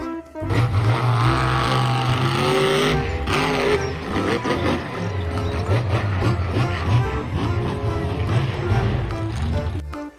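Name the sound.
toy monster truck engine sound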